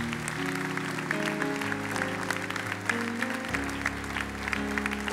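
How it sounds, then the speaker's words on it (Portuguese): A church congregation claps together after an Easter sermon, a steady, dense wash of applause lasting several seconds alongside sustained tones, with no voices standing out. "Vamos aplaudir ao Cristo ressuscitado."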